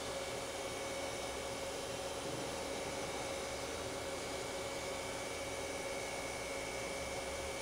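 A Tsugami B0203-III CNC Swiss-type three-axis lathe with its spindle turning at 3,500 RPM gives a faint, steady whir with a constant thin tone, unchanging throughout.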